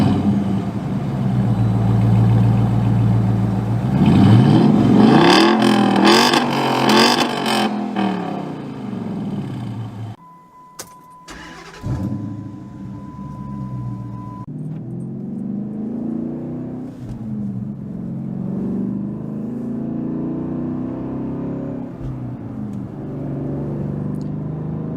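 A Dodge Challenger R/T with an aftermarket exhaust starts with a loud deep rumble and climbing revs, drops briefly, then fires back into a throaty, steady idle heard up close.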